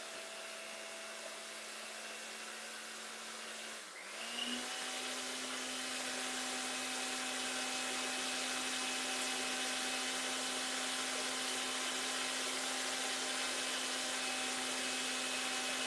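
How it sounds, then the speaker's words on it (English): An electric mixer runs steadily while banana bread batter is made, a loud continuous whirring hum whose pitch jumps up partway through as the speed is raised, then holds steady and constant. "You guys said that you can hear me over the mixer"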